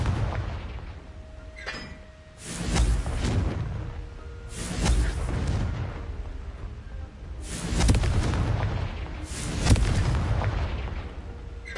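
Confringo fire spells in Hogwarts Legacy burst four times in a row, each a loud, booming explosion with a rushing tail, spaced a few seconds apart.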